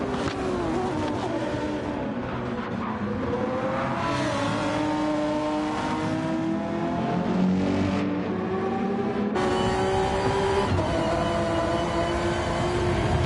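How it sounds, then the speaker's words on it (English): Racing car engines from a Gran Turismo 7 race at Mount Panorama, with a Honda and a Lamborghini battling for position, rising and falling in pitch as they rev and shift, loud and continuous throughout with no talking. "Two very beautiful sounding cars."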